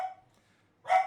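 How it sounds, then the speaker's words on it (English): A dog barks twice, nearby and fairly loud indoors, with a short quiet gap between the first bark and the stronger second one. "just barking, the dog barking"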